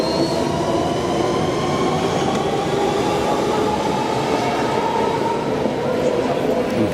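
London Underground train at a station, a loud steady rumble of the carriages with rail noise and a faint squealing whine, continuous and close, with no clear talk over it.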